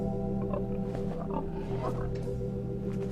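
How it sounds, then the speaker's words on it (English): Low, rough pig-like grunting in the video game The Wolf Among Us over a steady electronic hum and background music, short snorting bursts repeating close up. "It actually sounds like a pig."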